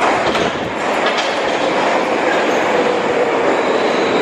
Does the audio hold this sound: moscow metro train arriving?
yes